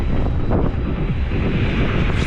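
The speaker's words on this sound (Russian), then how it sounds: "Да, ветер, блин." Steady, loud wind buffeting a microphone, blowing outdoors on a cycling route in Crimea in March, as a constant broadband rumble with slight gusty fluctuations and no voices.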